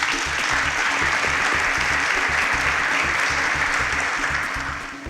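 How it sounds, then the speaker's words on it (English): Audience applause, a dense, sustained clapping from a crowd at a televised quiz competition in Nigeria, loud and continuous before easing slightly at the end. "Please, a round of applause for Sachet."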